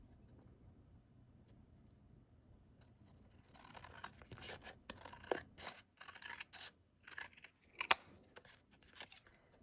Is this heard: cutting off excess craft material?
yes